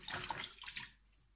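Fresh-picked mushrooms are rinsed under running water, giving a short, close burst of splashing and trickling that fades to a quieter hiss.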